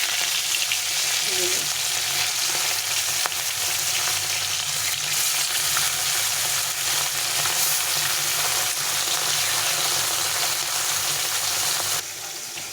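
Fish frying in very hot oil, a loud, dense and unbroken sizzle that holds steady for several seconds before dropping slightly in level near the end.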